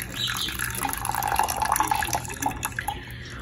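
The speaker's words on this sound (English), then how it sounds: "let's go ahead and pour this out" Steeped tea is poured out of a brewing vessel, giving a soft, continuous trickle of liquid that holds steady for a few seconds at close range, with no talking over it.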